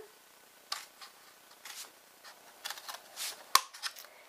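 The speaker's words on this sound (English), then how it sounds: "grab my Grand Pro shears, and I'm going to cut each one of these little lines" Grand Pro shears snip through small lines on a papercraft gift box, making quiet, scattered crisp clicks and snips, with one sharper cut standing out near the end.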